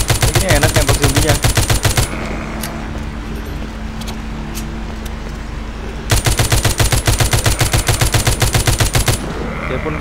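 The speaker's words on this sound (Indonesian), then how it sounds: "Ini enak tembak zombinya." Rapid automatic gunfire from shooting zombies in The Walking Zombie 2 video game, loud bursts of fast repeated shots for about two seconds, a pause with background game noise, then another sustained burst.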